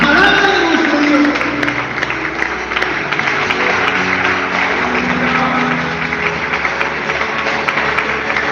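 A church congregation applauds at a worship service, a dense wash of clapping and crowd noise mixed with voices and music, loud and continuous throughout.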